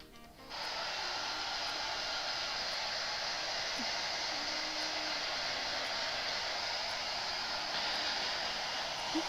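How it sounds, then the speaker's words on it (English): A hair dryer switches on and blows with a loud, steady whooshing roar for several seconds, close up. "Hairdryer out."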